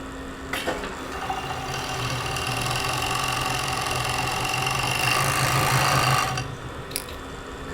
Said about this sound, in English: lift the foot, place it underneath and overlock this seam